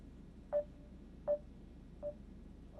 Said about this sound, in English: That phone acting up.